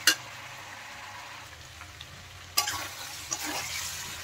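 Chicken curry sizzles and fries steadily in a pan with spices, lightly oiled, with bursts of scraping and stirring strokes in the second half; no voices, close and moderately loud.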